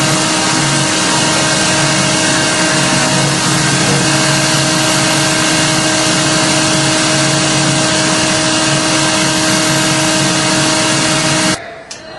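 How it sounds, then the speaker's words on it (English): A dense, continuous mechanical whir with a steady hum runs loud and unbroken for about eleven seconds, as Zypex concentrate is mixed into a waterproofing dry pack for an elevator shaft. It then cuts off abruptly. "now we're mixing a Zypex concentrate for the dry pack to put into the joints"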